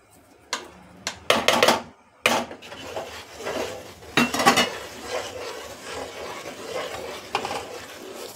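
Methi laddu ingredients mixed in a bowl produce loud, irregular scraping and knocking of a utensil against the bowl at first. These settle into a softer, continuous rustling stir.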